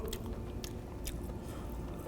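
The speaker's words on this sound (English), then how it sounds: "I'm still chewing." Someone bites and chews spicy chicken wings, with soft, wet crunches and squishy mastication sounds repeating irregularly up close at low volume.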